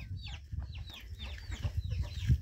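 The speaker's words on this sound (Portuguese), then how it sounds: "E aqui mais pra cá tem a pata" A brooding female duck on a farm sitting on a clutch of eggs makes a run of short, close clucking calls over a low rustling background.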